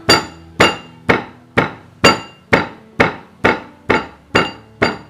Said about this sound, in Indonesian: Ngegepuknya jangan terlalu keras, harus ditekan